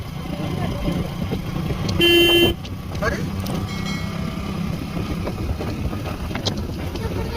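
A car on a village road honks once with a short, loud horn blast and passes by, its engine noise blending into steady background road rumble while people talk.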